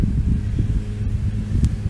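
Gusty wind buffets the microphone with low rumbling bursts, a continuous rough roar rising and falling with no voices.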